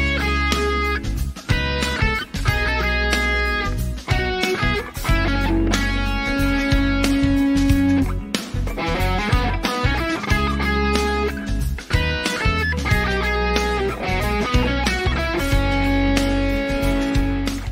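Electric guitar playing a blues example, with a continuous run of picked notes and short phrases over a steady low accompaniment, loud and close with no talking.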